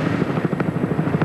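A TV news helicopter flies over the Bathurst motor race, its rotor thudding in a steady, fast rhythm that stays loud and close with no talk.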